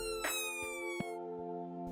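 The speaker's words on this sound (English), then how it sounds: "When the siren goes on again, that's your cue to let it go past." A two-tone emergency vehicle siren wails steadily with bright harmonic tones, heard plainly and alone with a few soft thumps underneath.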